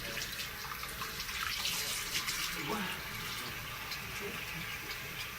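Tap water runs steadily into a sink while a face is rinsed, a continuous close hiss and splash with no talk.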